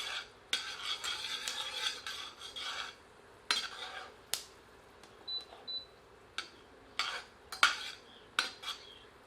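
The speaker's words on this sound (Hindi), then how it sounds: "7 से 8 काली मिर्च और एक टुकड़ा दालचीनी सम्मिलित कर कुछ क्षण भून लेते हैं" Whole black peppercorns, cloves and a piece of cinnamon roasting in hot oil in a pan for a mutton curry, with a soft steady sizzle broken by repeated clinks and scrapes of a utensil stirring against the pan.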